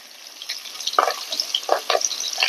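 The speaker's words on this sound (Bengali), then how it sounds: "কিন্তু আমি একটু ভেজে নিচ্ছি হালকা একটু" Hilsa fish lightly frying in a pan for mustard hilsa gives a steady close sizzle, with louder crackling bursts as the pieces spatter and shift.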